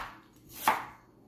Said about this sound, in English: We will start by chopping the onion.